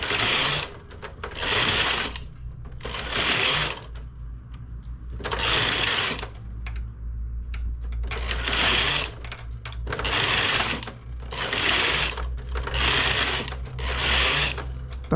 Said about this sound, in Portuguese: Começo com o carro L. Ele seleciona e até ele não parar de selecionar, eu continuo trabalhando somente com ele.